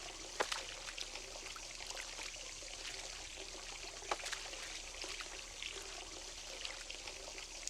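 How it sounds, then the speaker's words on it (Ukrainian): Dirty puddle water sloshing and splashing as a character in The Sims 4 moves through it, with soft continuous trickling and occasional sharper splash accents, fairly quiet and steady with no talking. "Блін, жесть як хлюпає."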